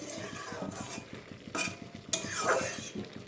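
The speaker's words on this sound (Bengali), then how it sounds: "ধনে পাতাগুলিও আলতোভাবে মিশিয়ে দিচ্ছি" Coriander leaves being gently stirred into a dry mixed-vegetable and small-fish curry, a quiet low sizzle under a fast rhythmic scraping of a spoon against the pan, with a couple of light clinks.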